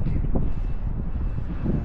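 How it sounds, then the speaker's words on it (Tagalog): Wind buffets the microphone with a low, continuous rumbling gust, steady and close, with no clear voices. "Sarap ng hangin. Malamig."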